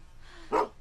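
A dog in The Walking Dead Season Two video game gives a single short, fairly loud bark in an otherwise quiet moment.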